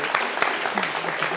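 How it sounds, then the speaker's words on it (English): Audience applause at a talk on veganism, a dense, steady wash of clapping that stays loud and even from start to finish. "Round of applause."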